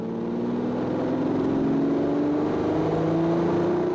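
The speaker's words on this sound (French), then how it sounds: "Un petit coup d'accélérateur avec son moteur de 400 chevaux." A 400-horsepower Lamborghini engine hums steadily and rises gradually in pitch as it accelerates, a smooth continuous drone with no voices.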